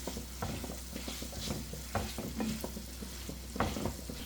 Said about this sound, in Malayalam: 1 മിനിറ്റ് ഒന്ന് അതുപോലെ ഒന്ന് ഇളക്കി കൊടുക്കാം.